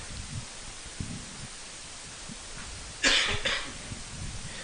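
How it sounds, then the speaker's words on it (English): A single sharp cough at a sporting event broadcast, close and loud for about half a second, standing out over steady background noise with faint thumps earlier. "Don't you be coughing on my broadcast"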